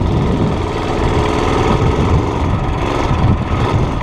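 A small mini bike engine runs steadily close by, its dense low rumble staying loud throughout with slight irregular stumbles in the firing rhythm.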